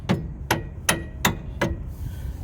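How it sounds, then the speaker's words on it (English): Five evenly spaced, sharp metallic taps from a small hammer driving a ball joint into a car's front suspension knuckle, close and clear with a faint background hum between strikes. "take a little hammer, and then"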